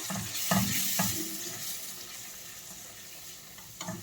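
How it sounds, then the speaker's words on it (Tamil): Crab gravy with tomato sauce and cumin being stirred in a sizzling pan, a steady frying hiss broken by a few scraping strokes of the spoon, close and moderately loud with no talking. "இப்போ இதை வந்து நம்ம நல்லா மெலாஞ்சி பண்ணுவோம்"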